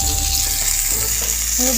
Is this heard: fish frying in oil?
yes